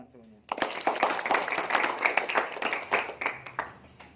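Audience clapping at an Indonesian organisational gathering honouring local branches: dense, crackling applause bursts in abruptly and carries on steadily, with voices talking over it.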